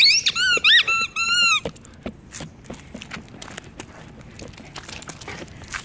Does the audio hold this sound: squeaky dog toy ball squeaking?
yes